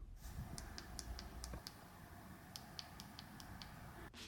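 Faint, small clicks of Pixel 9 Pro XL phone buttons being pressed, several in quick succession, then a pause and another short run, in a quiet room.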